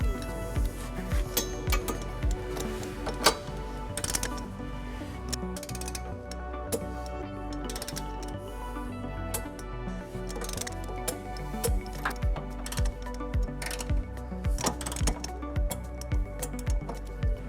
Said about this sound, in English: Now we're ready to tighten and torque all of our bolts to the manufacturer specification.